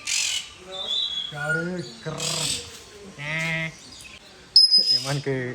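A parrot at Ramoji Film City gives a series of harsh, bleating squawks, several separate cries spaced across a few seconds, loud and close, with a shrill burst near the end and voices mixed in.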